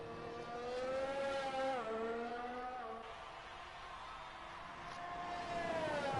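Race car engine in a sim racing game at Abu Dhabi, revving high and steady through a chicane with brief dips as it shifts and slows, then climbing again, sustained and fairly close.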